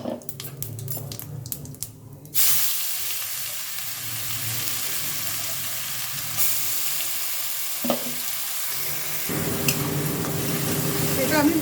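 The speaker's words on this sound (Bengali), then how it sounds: "এটা আমি ভালোভাবে মশলাটা কষিয়ে নেব।" A paste of onion, garlic, ginger and green chili is added to hot hilsa fish oil and stirred, then sizzles and fries steadily, loud and close, with occasional scraping of the spoon in the pan.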